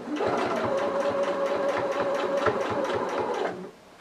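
Sewing machine running steadily while stitching fabric for a stuffed elephant toy, rapid rhythmic needle clatter with a motor whine, close, stopping near the end.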